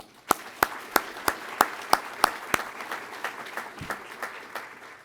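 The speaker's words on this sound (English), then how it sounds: "I think you deserve a special round of applause for our veterans" Audience at an Air Force undergraduate pilot training graduation clapping for veterans: a dozen or so sharp, evenly spaced claps ring out loud and distinct, then thin into softer, scattered clapping as the round fades.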